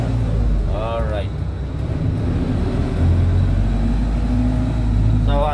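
Car driving at steady speed through traffic during a Restriction Code 3 driving test lesson in Dumalag, Capiz, a continuous engine and road rumble with passing traffic, and an instructor talking briefly at the start and end.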